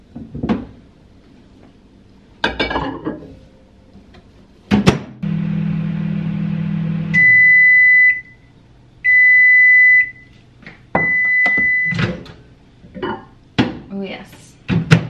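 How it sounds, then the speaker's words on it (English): Microwave oven heating a bowl of porridge, a steady low hum running for a couple of seconds, followed by three loud electronic beeps, with clunks of the door and dishes before and after. "Off you pop into the microwave."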